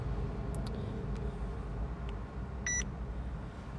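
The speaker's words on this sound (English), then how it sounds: "There's a beep." A short electronic beep sounds once near the end, small and clear over steady background hum.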